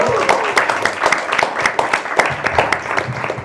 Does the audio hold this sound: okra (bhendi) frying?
no